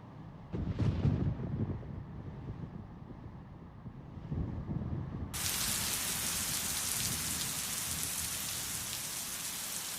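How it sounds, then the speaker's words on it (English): Rain falling in the mountains of Yushan National Park, a dense steady hiss that swells into a loud, constant downpour midway through, with gusty rumbles underneath and no voices. "When the rain descends, the beautiful scenery begins to fade, dampening the spirits of hikers."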